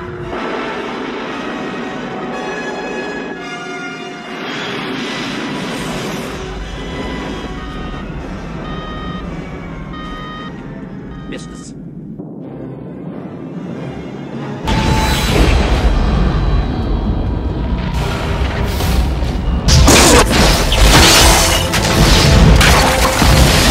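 A missile launch in a 1984 film begins with a low mechanical hum and beeping, then erupts into a loud sustained roaring blast.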